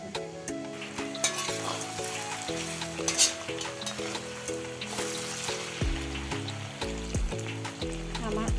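Pork and potatoes fry in a pan with a steady loud sizzle while being stirred, under background music.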